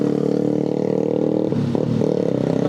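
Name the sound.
motorcycle exhaust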